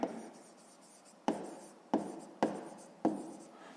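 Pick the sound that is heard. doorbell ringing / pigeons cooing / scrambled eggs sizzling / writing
writing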